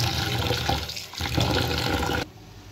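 Mung dal lentils being washed in water, a loud continuous rush of running and sloshing water with a brief dip midway before cutting off abruptly near the end.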